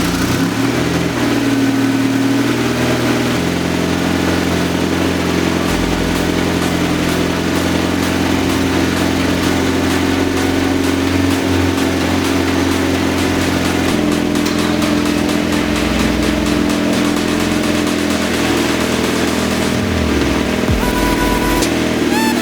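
A Mazdaspeed 3 car engine running at a steady, loud idle with a low rumble, holding even throughout with small shifts in tone and a faint blip near the end.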